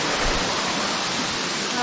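Waterfall at Chakratirtha in Keonjhar, a steady, loud broadband rush of falling water that fills the scene without pause, with a voice faintly present beneath it.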